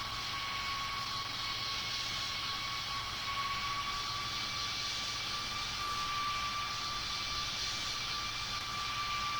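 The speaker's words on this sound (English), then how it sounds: "So we're gonna taxi until the end of this runway." An airplane taxis along a runway with a steady, unbroken engine drone and a faint, constant whine. The sound stays even throughout with no voices.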